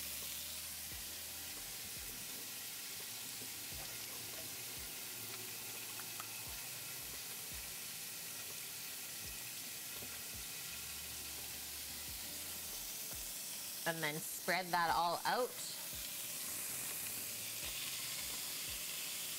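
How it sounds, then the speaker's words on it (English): Lasagne sauce sizzles and fries in a pan as a steady, hissing crackle. A brief burst of louder stirring and clatter comes near the end, and a person speaks briefly. "That's a good sizzle sound though"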